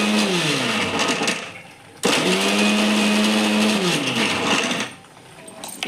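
A mixer grinder pulses cucumber chutney in short bursts, the motor whining up to speed, running steadily, then spinning down twice with a brief pause between, loud and close.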